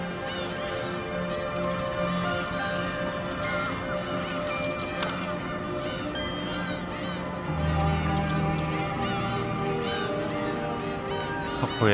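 Many birds calling across a coastal lagoon estuary at early morning, a dense overlapping chorus of chirps and whistles with harsher honking calls breaking in near the end.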